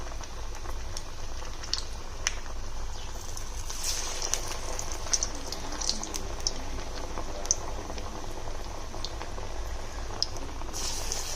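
Moong dal vadas frying in oil give a soft, constant bubbling crackle with small pops scattered across it, fairly faint and close.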